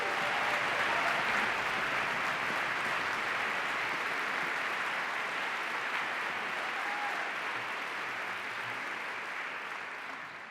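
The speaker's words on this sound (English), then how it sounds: "Let's give them another round of applause," Audience applause for a youth orchestra at an arts lecture event, a dense, steady wash of many hands clapping that carries on throughout and slowly fades toward the end.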